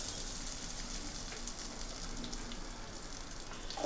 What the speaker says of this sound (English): And we'll fry it until it is nice and transparent.